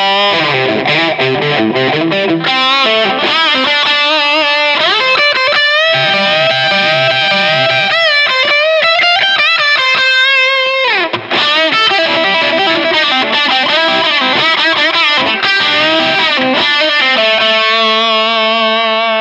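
A distorted electric guitar plays a full solo with no backing, in long stretches of quick melodic runs, bends and held notes, loud and continuous throughout, ending on a sustained ringing note.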